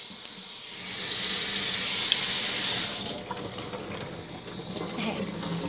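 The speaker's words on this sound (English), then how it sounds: "I'm just going to turn the tap on like this instead" Water runs from a tap into a cup, a loud rushing hiss that softens into a quieter, steadier trickle as the cup fills.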